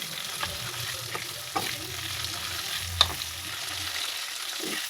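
Chicken frying in hot oil in a curry pan for Nagercoil-style chicken, a steady moderate sizzle with light stirring taps and one sharp clink partway through.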